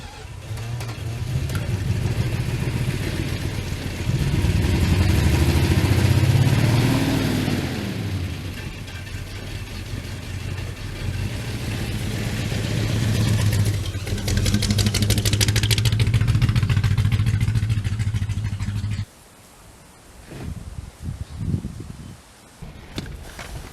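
A 62-year-old Dodge car engine running, a loud steady mid-range drone that swells and eases as it revs and idles, then cuts out abruptly near the end, leaving scattered knocks and rustles.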